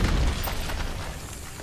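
A nanomite warhead test detonation in the film G.I. Joe: The Rise of Cobra, a loud, deep boom that hits at once and fades into a rumbling roar.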